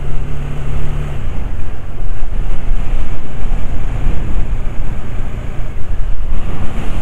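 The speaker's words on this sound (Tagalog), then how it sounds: "Oh, lakas ng hangin." Strong wind roars across a microphone on a mountain road, a loud, continuous buffeting rush with a low engine hum underneath at the start.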